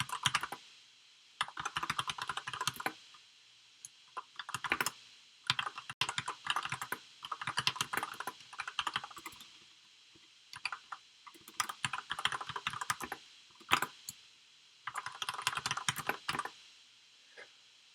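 Close-up typing on a computer keyboard while coding, with rapid bursts of key clicks broken by short pauses, steady and fairly quiet, with no voices.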